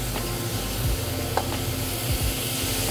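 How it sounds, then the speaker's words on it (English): Marinated taco meat sizzles on a hot pan with a continuous hiss and spatter, steady and close, with no one talking over it. "I'm gonna throw this meat on here. And then we want that beautiful sound whenever we cook"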